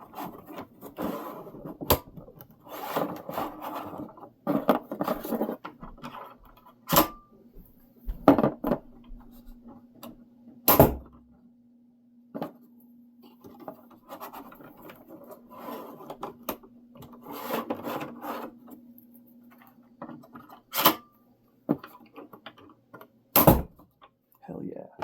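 A 3D printed repeating crossbow shoots bolts, giving several sharp, loud cracks spaced irregularly through the clip, with people talking and handling noise between the shots.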